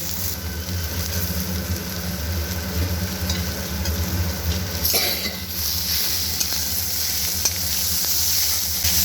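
Steady sizzling of tomatoes just added to a pan of fried offal pieces for Bengali gile mete chorchori, with faint stirring and utensil scrapes over a continuous frying hiss, close and even throughout.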